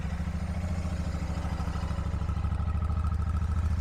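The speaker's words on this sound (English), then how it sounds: "So first, we're gonna start up the factory bike here." A Royal Enfield Shotgun 650 parallel twin on its stock factory exhaust idles in neutral, a steady, even, throbbing pulse recorded up close with no voices.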